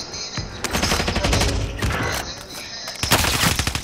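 Sustained automatic gunfire from a Call of Duty Cold War Warzone firefight, loud dense bursts of rapid shots with mechanical clatter, continuing with a brief lull before another close volley.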